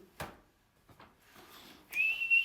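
After a few faint clicks and taps, a shrill whistle sounds near the end, a short, high, steady blast.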